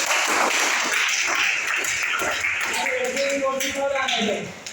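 A burst of clapping from a class of students fills the clip, steady and fairly loud, with a voice speaking over it toward the end.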